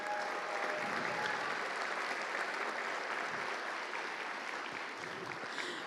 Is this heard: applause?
yes